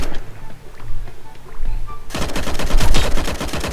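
Gunfire in the mobile battle-royale game Sausage Man: quieter scattered thuds, then a sudden dense, loud burst of rapid automatic shots that rattles on to the end.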